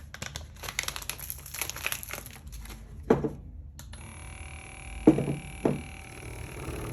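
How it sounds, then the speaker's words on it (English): A massage gun buzzes against an acrylic snow globe as glitter is shaken inside. Crinkly rustling comes first, then a steady electric hum with a few sharp knocks, fairly close. "I'm gonna use the massage gun from here on out"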